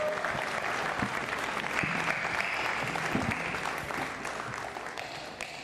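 Audience applause at a boxing press conference for KSI vs. FaZe Temper, steady dense clapping throughout, fairly loud and near, with crowd murmur mixed in.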